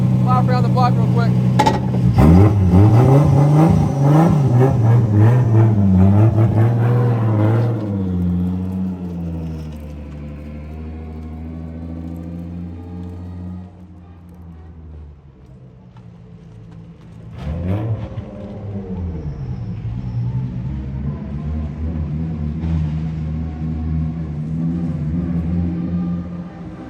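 A car with a 1.5JZ engine pulling away for a lap around the block, its engine revving loudly up close and then settling to a lower rumble. People talk over it near the start.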